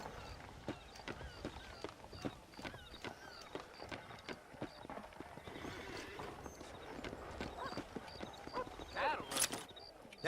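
Horses in the Red Dead Redemption video game, with steady clip-clop of hooves and a few whinnies near a town street, dense continuous hoofbeats throughout, no talk.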